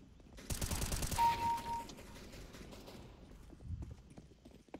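Small rifle firing in the shooter game CS:GO, a short burst of rapid shots clustered near the start, fairly close and loud, followed by quieter scattered sounds and no talk.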